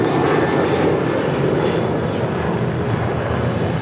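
A Qatar Airways heavy jet roars down runway 25 left at Los Angeles International Airport on takeoff, a loud, steady, broad engine rumble that holds throughout without talk.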